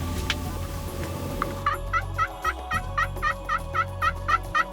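Wild turkeys gobble in an outdoor spring hunt setting, a rapid series of about a dozen regular rattling calls from a bird at moderate distance, clearly audible over low background hum, preceded by a couple of brief softer calls.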